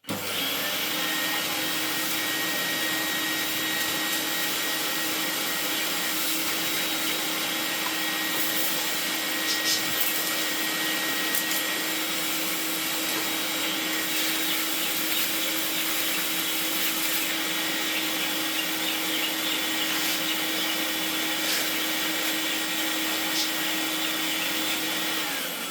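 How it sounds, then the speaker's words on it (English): An Electrolux cordless vacuum fitted with a crevice tool runs continuously at close range, a steady loud whine and airflow roar with no pauses. "grab the Electrolux, have the crevice tool, and we'll give this a quick vacuum off."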